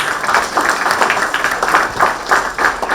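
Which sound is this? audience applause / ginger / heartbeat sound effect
audience applause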